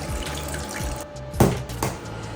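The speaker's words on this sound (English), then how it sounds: "So what I'm gonna do is I'm gonna pour some ice water" Ice water pours from a tap or jug over soft homemade butter in a bowl, a continuous close splashing gurgle with a brief louder surge partway through.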